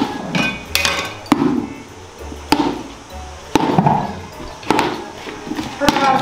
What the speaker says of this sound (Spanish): hay que coger este martillo. Martillo. Pegarle hostias.